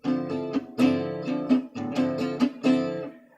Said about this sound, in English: Let's try the bossa rhythm now.